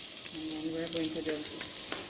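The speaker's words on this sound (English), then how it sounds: "just brown the beef." Beef browning in a pan with peppered steak ingredients, a steady close sizzle and crackle of frying with faint stirring underneath.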